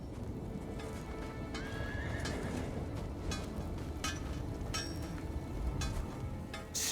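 A horse in The Elder Scrolls Online whinnies and snorts amid clopping hooves and faint clinks, moderately close and fairly quiet overall.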